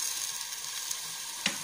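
Eggplant fries in hot oil with a faint, steady hiss and crackle, with a couple of brief clicks near the end.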